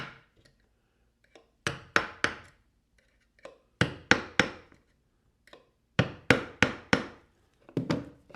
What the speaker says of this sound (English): I'm going to use the awl to punch holes in the rim